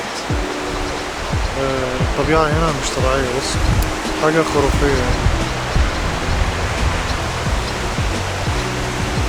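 Two mountain rivers in Georgia merging into one, a steady broadband rush of flowing water that stays constant throughout, with someone talking over it in the foreground.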